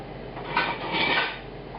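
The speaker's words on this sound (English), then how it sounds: "I'm going to take the lid off, add the rest of the thyme." A lid lifted off a pot of slow-simmered chicken broth on the stove, a soft metallic scrape and clink of cookware heard up close, with a brief rattle near the middle and a second longer swell of clatter before settling.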